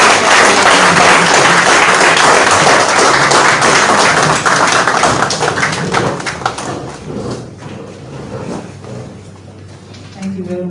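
Audience applause at a handover ceremony for donated medical items, dense clapping that is loud at first and thins out toward the end.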